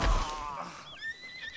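A horse in the video game Red Dead Redemption 2 whinnies with a rising, wavering call, close and fairly loud, followed by softer high squealing tones.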